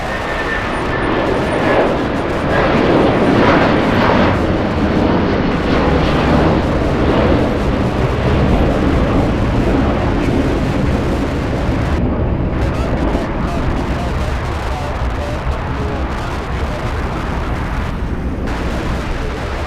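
A Boeing 757 jet moving at LAX airport gives a loud, continuous broadband roar, with wind buffeting the microphone for the whole stretch.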